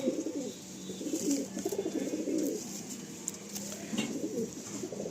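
Pigeons coo in low, rolling phrases nearby, repeating through the clip with faint background clicks and noise.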